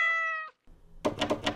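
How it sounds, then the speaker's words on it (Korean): A cat meows once inside the 13F horror video game, with a soft knock or thump following it and no talk. "고양아! 고양이..."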